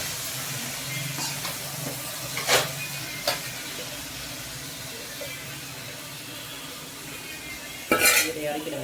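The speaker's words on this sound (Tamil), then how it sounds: "சாதம் அடிக்க வேண்டும்" Cooked rice and spinach are mashed in a metal pot, making soft intermittent scraping and stirring with a few louder clanks of utensil on pot.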